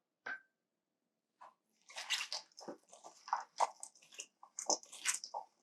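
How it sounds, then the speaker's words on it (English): Almonds are stirred into a salad in a bowl, giving soft scattered crunching, rustling and clinking scrapes, close and irregular, with no talk. "You're going to stir those into your salad as well."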